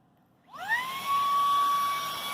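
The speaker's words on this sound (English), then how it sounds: "It's a little handheld vac." A small battery-operated handheld vacuum switches on after a moment of near silence, spinning up with a rising whine and then holding a steady, high-pitched motor hum close by.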